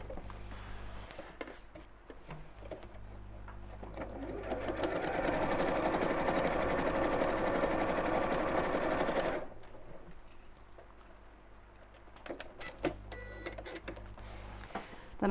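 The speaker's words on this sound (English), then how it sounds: "I'm just going to pop a clip in there and then sew quite close to the edge to hold that in place." A sewing machine stitches along the edge of a fabric tote bag, running steadily for about five seconds between shorter start-stop bursts and quiet pauses.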